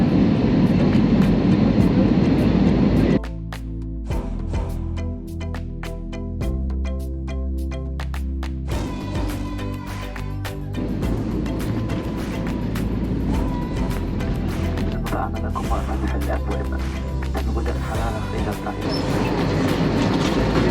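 An airliner lands in Senegal: a loud roar of engines and air gives way to rattling, clattering rumble as the wheels roll along the runway, steady cabin noise continuing throughout.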